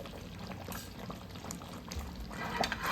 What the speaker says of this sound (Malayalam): ഇനി കുറച്ച് നെയ്യ് കൂടി നമ്മൾ ഒഴിച്ചു കൊടുക്കണം